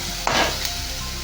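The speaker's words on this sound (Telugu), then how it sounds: "ఇక మనము అక్కడ వడగట్టి పెట్టిన ఈ అరటి పువ్వును మనం వేసి కలుపుకుందాం" Banana flower stir-fried with roasted moong dal in a pan, a brief burst of sizzle and a stirring scrape over a steady frying hiss, close and short.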